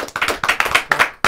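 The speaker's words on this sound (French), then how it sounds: "Faut l'applaudir." Applause from an audience cheering a rapper, a close burst of hand claps in quick irregular rhythm that stops briefly midway and resumes at the end.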